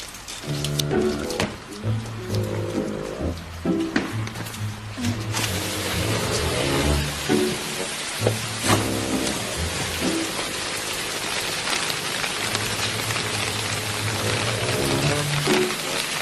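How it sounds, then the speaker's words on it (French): Heavy rain pours down during a typhoon, a steady dense hiss of water on surfaces running throughout over a layer of music-like tonal sound, with no talking. "il y a un typhon dehors. Il pleut des cordes"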